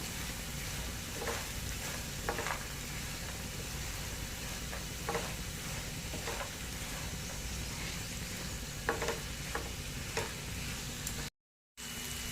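Mango pieces being stirred and fried in a pan, a continuous low sizzle broken by scattered spoon scrapes and clinks over several seconds, with a short silent gap near the end.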